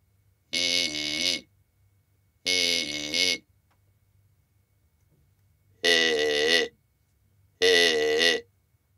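A reed-type buzzing source coupled to a series of vocal-tract models, giving four separate vowel-like tones of roughly one second each. Each tone has a different resonant colour, and there is near-silence between them.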